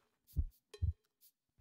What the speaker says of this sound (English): No way there's a heartbeat sound like in Dead by Daylight.